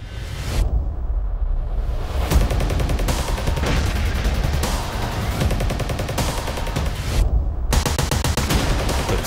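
Battle sound effects for a Gallipoli 1915 war film: loud, dense cannon blasts and rapid gunfire crackle almost continuously, broken by two brief silent gaps.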